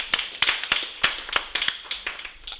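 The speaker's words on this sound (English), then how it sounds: "Can we give ourselves a round of applause?" Scattered, sparse hand claps at a diaspora convention opening session, individual sharp claps at an irregular rhythm, fairly quiet and close rather than a full crowd roar.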